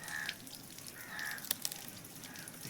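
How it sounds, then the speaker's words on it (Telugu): Crows caw over prawn ponds in several clear, moderately distant calls spread across the stretch, with faint dripping water and a few sharp ticks in the background. "రొయ్యలు గుంటల మీద నీళ్ళ కాకులు అవన్నీ వాళ్తూ ఉంటాయి రొయ్యలు తినేస్తాయి"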